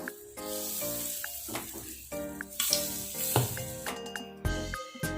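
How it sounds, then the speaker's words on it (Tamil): Hot oil ladled from a heated pan into a bonda batter mixture of yellow pumpkin, crackling and sizzling loudly up close in bursts, with spoon stirring clatter between pours. "அந்த எண்ணெயிலேருந்து நல்லா இப்போ சூடாயிடுச்சு ரெண்டு மூணு கரண்டி எடுத்து இதில் ஊற்றிக்கலாம்"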